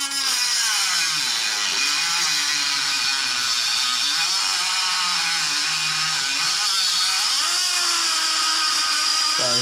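A Dremel rotary tool cuts into a stock Audi RS3/TTRS intake inlet, giving a continuous high-pitched whine with a gritty, wavering edge that holds loud and close throughout with no talk.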